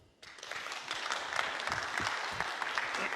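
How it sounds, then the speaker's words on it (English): An audience at a digital product forum breaks into applause, rising quickly from quiet to a steady, moderately distant clapping that continues to the end. "And now the applause."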